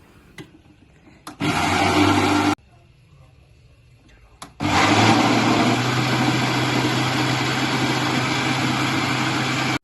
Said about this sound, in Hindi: इसे करेंगे 1 मिनट के लिए ग्राइंड